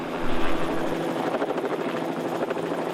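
A helicopter close by, its rotor thumping in a steady rapid pulse over a loud engine whine.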